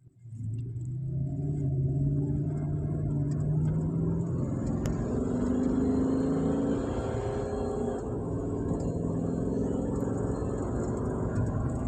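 A car with a 6L80 automatic transmission showing abnormal shifting on a test drive: a steady interior engine rumble with rising and falling tones as it accelerates through the gears, continuous and close, with no talking.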